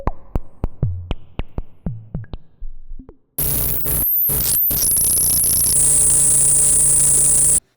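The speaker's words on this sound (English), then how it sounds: "Here is the patch with voltage control added for sequence and percussion and a touch of reverb." A modular synthesizer patch plays a run of sharp sequenced percussive hits that ring and decay under a touch of reverb, then gives way to a dense, loud buzzing drone with sweeping filtered tones.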